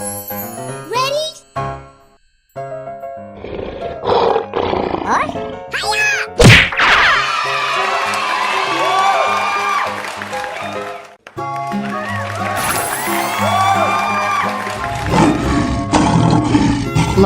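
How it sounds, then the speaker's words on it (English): A lion roars loudly amid a busy mix of bright tonal jingles, sharp whacks and a voice, with the roar swelling and dropping across the stretch. "Lion."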